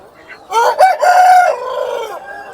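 A rooster crows loudly and close by at a busy rooster market in Gokavaram, one long drawn-out call rising and then trailing off, with faint market noise underneath.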